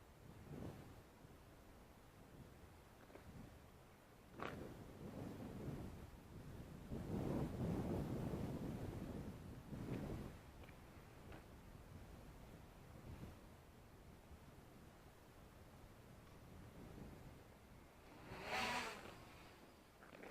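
Gusty wind buffeting the microphone in rumbling surges, rising and falling over an outdoor backdrop with no talking.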